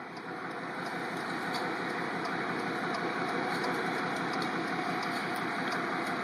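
Vehicle engines idle steadily nearby at a roadside bear jam in Banff, a continuous low mechanical rumble with a faint constant whine, unchanging and alone without talk.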